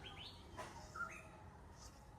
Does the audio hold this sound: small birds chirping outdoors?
yes